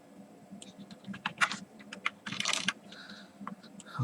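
Java code is typed on a computer keyboard in irregular bursts of crisp key clicks and clacks, close and fairly quiet, with brief pauses between runs.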